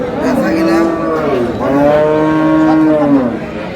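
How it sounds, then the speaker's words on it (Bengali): Cows with calves mooing at a busy rural cattle market in Dinajpur, Bangladesh: two long, loud, drawn-out moos close by, one after another, over steady crowd noise. "দেখছিলাম এখানে গাভী বাছুর"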